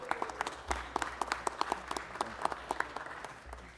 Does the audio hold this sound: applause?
yes